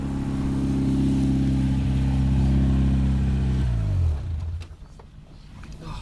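A Caterham sports car engine roars loud and close with a strong, rough tone, holding steady before the revs drop sharply and fade away into quieter background noise.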